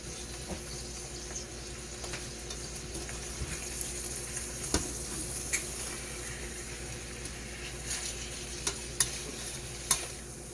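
A sirloin steak sizzles in a pan after being flipped, a soft, steady frying hiss that runs throughout with occasional small pops and clicks, fairly quiet and close, with no one speaking.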